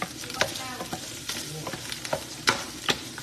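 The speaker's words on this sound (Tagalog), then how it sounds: "Lalagay na po ako ng bawang sibuyas" Garlic and onion frying in oil for a banana heart dish, a bright continuous sizzle punctuated by sharp, regular spatula scrapes and taps against the pan, close and clear.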